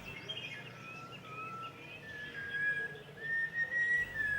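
Wild birds, such as Malabar whistling thrush and red-whiskered bulbul, sing in the open Eravikulam hills, thin whistled notes and chirps rising over a quiet outdoor hush, some clear and sustained, others faint and distant.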